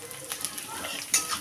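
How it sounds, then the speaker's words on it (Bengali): Kamini Bhog rice frying in a pan with crushed cardamom and whole cumin, a soft broadband sizzle with light scraping stirs and a brief louder clatter near the end, close and steady. "চালটা দিয়ে আমি একটু ভালোভাবে ভেজে নেব"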